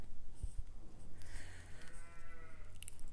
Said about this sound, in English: Oh, you can probably hear the sheep now.